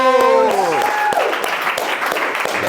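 A small group at a public speaking workshop claps after a voice trails off, a short burst of applause that rises quickly and holds steady, close and moderately loud.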